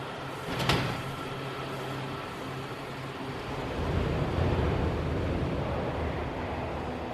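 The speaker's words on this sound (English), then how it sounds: "Doors opening." Subway train doors open with a sharp clunk early on, then a steady roar of the carriage and station fills the rest, loud and continuous with no talking.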